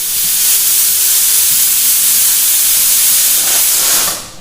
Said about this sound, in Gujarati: પ્રેશર કુકરનું ઢાંકણ બંધ કરી દેવાનું છે અને ગેસની હાઈ ફ્લેમ પર લગભગ 5 થી 6 વિસલ થાય ત્યાં સુધી આપણે તેને કૂક કરી લઈશું